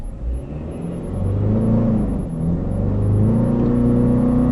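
Turbocharged pickup truck launching hard in four-high with sport mode and traction control off, a loud rising engine roar and whir that climbs through gear changes, close and continuous.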